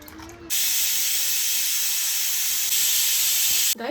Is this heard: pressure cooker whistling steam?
yes